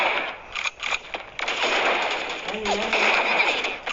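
Rapid bursts of gunfire crackle almost continuously in the video game Sausage Man, with a voice shouting over the shooting.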